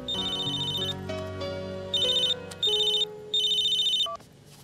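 A telephone rings in repeated electronic bursts, three or four close, loud trilling rings separated by short gaps, over a soft background of music-like tones, with no talking.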